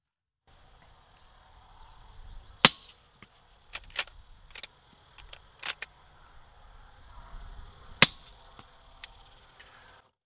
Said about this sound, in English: So first we'll shoot two of the 38 specials.